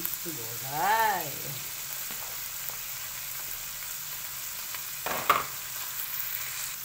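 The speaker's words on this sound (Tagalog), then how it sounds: "Tapos, ilagay natin din ito na gulay. Yan. Gisa natin." Mixed vegetables go into a pan with sardines and are sautéed, giving a steady soft sizzle with a few close stirring scrapes and a brief clatter, while a voice calls out briefly near the start.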